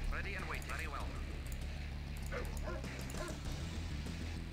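A pack of dogs in the video game Red Alert barks and yelps in short bursts, moderately loud, over a steady game hum and busy background noise.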